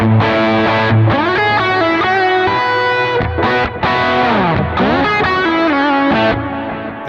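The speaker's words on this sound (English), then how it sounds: "Then I have two delays," Electric guitar with a worship-style tone, amp driven slightly louder, played through two delay effects: sustained, ringing chords and melodic notes blurring into repeating echoes, loud and continuous with no talking.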